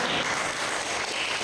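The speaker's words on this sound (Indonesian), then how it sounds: "Beri tepuk tangan untuk semua." A classroom of students applauds, producing a brief, even wash of clapping that fills the whole short span at moderate loudness without any voices.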